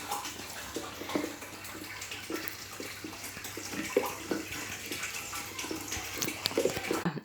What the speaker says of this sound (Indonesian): Aku pakai air biasa ya, bilasnya.